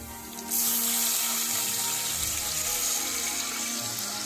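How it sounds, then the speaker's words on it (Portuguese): Water gushes into a hot pan holding browned seasoning and oil, starting suddenly with a loud steady rushing pour that continues to the end, close and alone. "Agora eu vou colocar água, são 700 ml de água."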